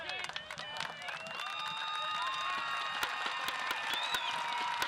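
A stadium crowd at a Phoenix Rising FC versus Colorado Springs Switchbacks soccer match cheers and applauds a player, a steady distant roar with scattered whistles and shouts and a commentator talking over it.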